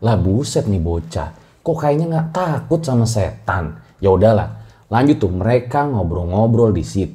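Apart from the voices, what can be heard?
No everyday noises stand out.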